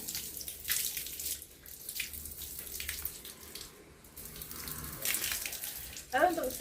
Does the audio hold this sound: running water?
yes